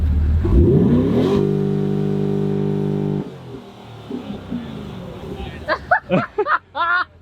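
A 2020 Corvette engine revs up loudly and holds a steady high drone for a few seconds before cutting off, followed by quieter rumbling and then people talking close by.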